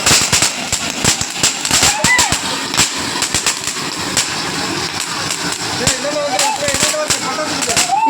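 Sharp, irregular bangs of firecrackers going off nearby in quick bursts, with people talking and calling out throughout.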